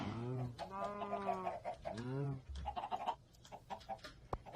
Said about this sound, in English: Let's grab the red chicken.